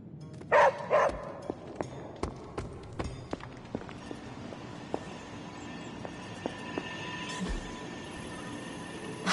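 A puppy named Charlie gives two sharp, close barks right at the start. After that come quiet intermittent clicks and taps in a hushed room, with no talking.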